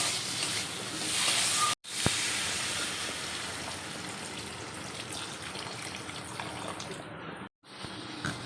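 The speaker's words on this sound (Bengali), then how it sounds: "তার আগে একটু মাছের ঝোলের আলুটা একটু কষে দিচ্ছি ভালো করে" Potatoes for a fish curry sizzle in hot oil in a pan, a steady close frying hiss with faint scraping throughout.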